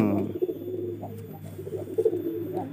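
Pigeons kept in a loft give soft, low, throaty coos in repeated short bursts, close by and fairly quiet.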